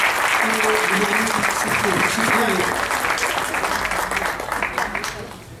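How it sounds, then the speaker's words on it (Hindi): Audience at an international Urdu poetry mushaira breaking into loud, dense applause that holds steady and then gradually thins out, with a voice speaking faintly underneath. "मैं आप सब की भरपूर तालियों में अभिनव शुक्ला साहब को गुज़ारिश करूँगा।"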